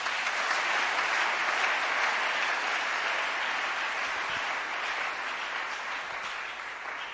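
A church congregation at a French-language Christian sermon applauds in a steady, full wash of clapping that holds evenly throughout and fades slightly near the end, with no voices over it.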